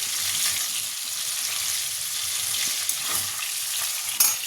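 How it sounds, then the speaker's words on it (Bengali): Fish fries in oil with a steady, bright sizzle and a few sharper crackles and pops near the end, close up and with no talking. "এই যে মাছ একদম ভাজা হয়ে গেছে"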